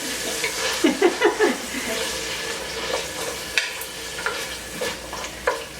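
Onions frying in a pan until translucent for collard greens, a soft sizzle under repeated scraping and stirring clatters, with several knocks bunched near the start and more spaced out later.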